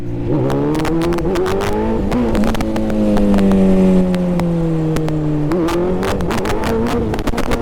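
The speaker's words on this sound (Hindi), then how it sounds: "तो भाई अभी व्हीली ट्राई करते हैं।" A Kawasaki Z900 motorcycle revs ahead of a wheelie attempt, its engine droning loud and close with a steady tone that climbs, eases and rises again throughout.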